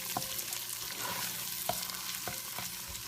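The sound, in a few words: stirring caramelizing onions in a pot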